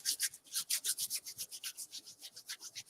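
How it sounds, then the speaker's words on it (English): Dried sage leaves are rubbed between the hands to crumble them, a close, quiet rhythmic rasping of about fifteen even strokes with no voices. "show them how to rub the sage down here"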